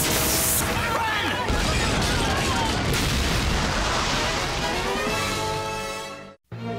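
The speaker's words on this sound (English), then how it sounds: "It's going to explode!" A huge cartoon explosion from Spider-Man: The Animated Series sounds as a loud, sustained roaring blast with crackling debris that fades out, then cuts to silence, with a voice shouting under the roar.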